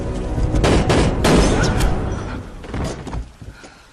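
A gunshot from a Jack Reacher action film rings out amid loud, booming bursts of impact and crashing sounds that fade away over a few seconds.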